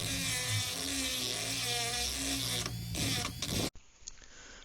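A Dremel rotary tool mills the ends of an aluminum shock absorber spacer, a steady high-pitched whine with shifting tones that cuts off abruptly near the end, leaving a faint hiss.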